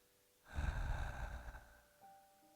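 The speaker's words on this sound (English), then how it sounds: "Do a few of those two-part exhales now." One strong, breathy exhale during yoga breathing, close and clear against a quiet room, trailing off into faint sounds.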